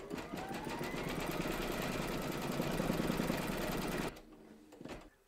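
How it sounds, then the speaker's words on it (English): An embroidery machine stitches a placement outline on fabric for an in-the-hoop reindeer towel topper, a steady, dense, rapid mechanical whirr that runs for about four seconds and then stops, leaving faint quiet. "stitch round number four, and that's going to give you a placement outline for your fabric"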